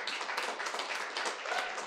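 Applause from an audience at a motivational talk, a brief, even burst of many hands clapping, somewhat soft.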